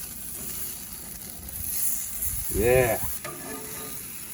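A red snapper fillet fries in a hot pan, a steady close sizzle that swells briefly as the fish is turned, with a brief word of speech.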